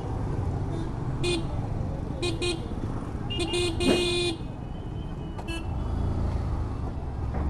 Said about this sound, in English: I've been honking like a maniac.